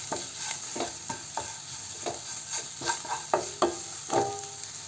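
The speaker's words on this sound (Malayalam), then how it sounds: "മസാലയുടെ പച്ചമണമൊക്കെ ഒന്ന് മാറുന്നത് വരെ നന്നായിട്ട് വഴറ്റി കൊടുത്തിട്ടുണ്ട്" Chili powder masala sautés in a pan for a Kerala-style okra curry, with a steady sizzle under regular scraping strokes of a stirring spoon, about a dozen strokes, close and clear, with no talking.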